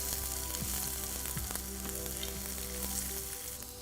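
Chopped garlic and ginger sizzle and fry in a pan while being stirred, a steady close crackling hiss with occasional scraping strokes from the stirring, and no voices.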